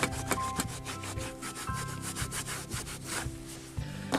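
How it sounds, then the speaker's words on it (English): A brush scrubs a drink stain off plastic trim inside a car, giving a steady rhythmic rubbing with quick repeated back-and-forth strokes, close and moderately loud, with no talking. "you can also just use your brush if you want to"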